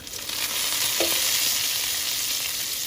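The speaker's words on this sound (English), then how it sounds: "So I'm checking on my bacon now. I'm gonna flip it." Bacon sizzling in a hot pan, a bright continuous crackling hiss swelling in the first half second, with a brief clunk as a strip is turned, close and loud.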